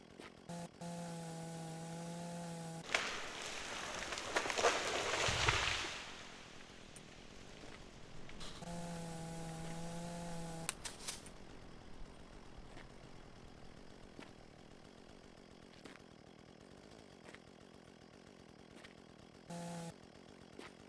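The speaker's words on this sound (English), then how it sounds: "let's put down the chainsaw" A chainsaw in the video game Mon Bazou revs in two long bursts with a loud rough roar between them, then a steadier engine drone continues, ending in a brief final rev.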